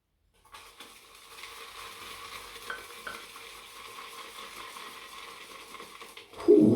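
A shaving brush whipping Rex Supply Co. 1955 shaving soap into lather in a large Seth Baxter lava bowl, a continuous close swishing, wet churning that builds steadily, ending in a louder bump.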